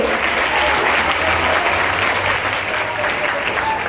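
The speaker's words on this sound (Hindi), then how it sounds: "बच्चों तालियां तो बजनी चाहिए।" Schoolchildren applaud a prize winner at a school costume-competition prize ceremony during a Guru Purnima festival, a steady, dense roar of clapping from a large young crowd that holds evenly throughout.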